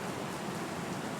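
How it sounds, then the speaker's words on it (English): Steady rain falls in a soft, even wash, moderately quiet and unbroken throughout, with no voices. "The sound of the rain begins to fade."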